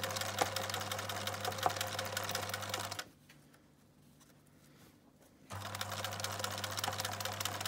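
Sewing machine stitching a zipper along two pieces of fabric for a small pouch: a steady close mechanical whir and rapid needle patter, stopping for a couple of seconds of near silence, then resuming at the same pace.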